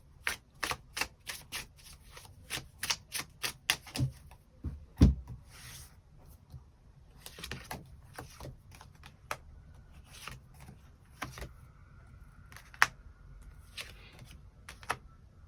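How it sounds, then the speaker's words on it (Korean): Tarot cards being shuffled and drawn at close range, a rapid run of crisp riffling snaps followed by scattered slides and taps as cards are laid down, with no one speaking. "추가 카드 뽑아보도록 하겠습니다"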